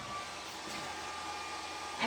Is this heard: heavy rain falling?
no